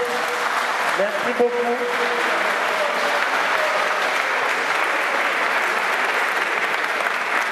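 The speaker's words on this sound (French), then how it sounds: "Applaudis." Audience applause at a conference in Paris, a sustained dense clapping throughout, fairly loud and even, with a brief spoken thanks near the start.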